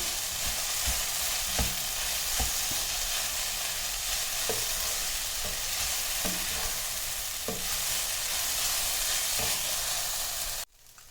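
Okra sizzles and fries in a hot pan, with occasional scraping stirs of a spatula over the steady crackle, ending abruptly.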